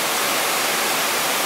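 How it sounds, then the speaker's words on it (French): Robinson Waterfalls in Malaysia roar as a steady, dense rush of falling water, loud and continuous with no voices over it. "nous sommes à côté des Robinson Waterfalls"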